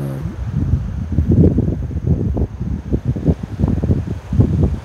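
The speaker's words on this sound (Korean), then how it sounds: "이 바람이 따뜻하지도 않고 차갑지도 않습니다." Soft, steady wind gusting along an autumn beach at Sokcho, a low rushing noise that swells and eases without any voices.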